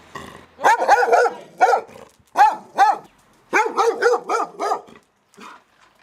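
A dog barks in a rapid series of loud, close yaps in two or three bursts, with a brief pause between groups and a faint trailing yelp at the end.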